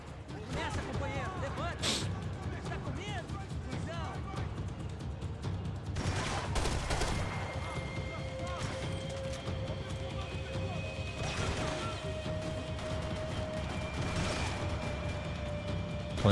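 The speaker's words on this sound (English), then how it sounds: "Can't even see who's shooting at me." Gunfire in the video game Max Payne 3, rapid popping shots and crashing impacts scattered through a steady noisy background, under talk.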